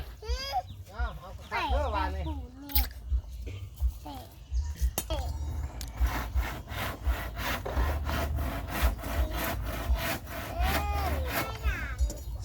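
A hand saw cuts through wood in a steady back-and-forth rhythm, close by, while someone talks over the first few seconds.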